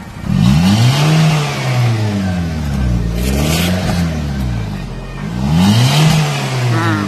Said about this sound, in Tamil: இதான் ஃப்ரெண்ட்ஸ் ஸ்விஃப்ட் டிசையரோட பெட்ரோல் இன்ஜினோட ஃபுல் நாய்ஸ்.